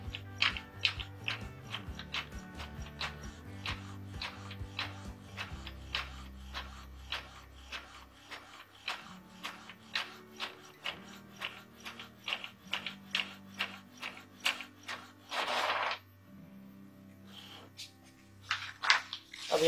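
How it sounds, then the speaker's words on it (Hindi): Epson L360 ink-tank printer running a colour print job, giving steady rhythmic mechanical clicking and ratcheting with a low feed rumble early on and brief louder whirring bursts near the end, close by with no talking. "अब मैं इसका color print लेने वाला हूँ"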